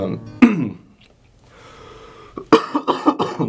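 A sharp cough, then after a short pause a burst of several rapid coughs in a row, close and fairly loud.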